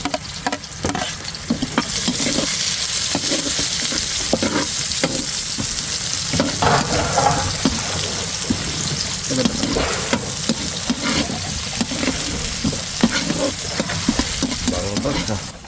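Onion, garlic and chili sautéing in a pan: a loud, continuous sizzle under repeated scraping stirs that come in quick uneven strokes, close and up front throughout.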